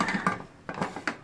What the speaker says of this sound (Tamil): குக்கர் மூடி போட்டு